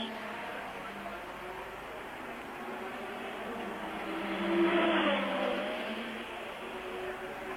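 Formula 1 cars from 1985 pull away from the start at the Monaco Grand Prix, a steady wash of engine roar that swells midway as the cars pass closer, then eases.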